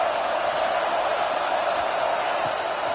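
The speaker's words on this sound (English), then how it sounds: "Here comes the noise from this big crowd in Happy Valley on third down" A big stadium crowd at a Penn State football game in Happy Valley gives off a steady, dense roar of noise that holds level throughout, with no single voice standing out.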